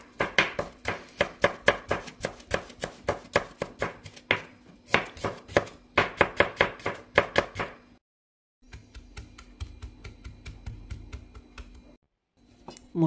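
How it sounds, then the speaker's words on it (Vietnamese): Rapid, steady knife mincing of shallots on a cutting board, many quick sharp taps in bursts with brief pauses, close and clear, no talking. "Đầu hành và hành tím mình cũng băm nhỏ."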